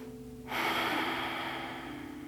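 A single deep breath during a stress-relief relaxation exercise, starting abruptly after a short quiet stretch and sustained as a long, close, airy breath over a low steady hum.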